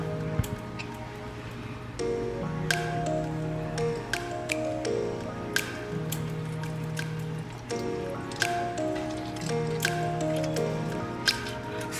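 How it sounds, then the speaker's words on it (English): Oranges are squeezed by hand for fresh juice, making a steady wet squishing and trickling with frequent small drips, quiet and close, with a low tonal background underneath. "So I'm going to continue to squeeze my oranges to get my orange juice"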